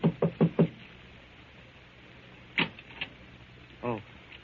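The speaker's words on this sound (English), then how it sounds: "knocks at the door of number" Four firm knocks on the door of a Paris house at night, 16 Rue de Roche, sound in quick succession near the start, followed by softer door and footstep sounds and a faint voice.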